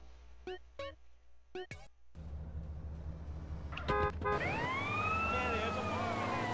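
Police car siren in Grand Theft Auto: San Andreas, wailing with rising and falling sweeps over game engine noise and sound effects, loud and close.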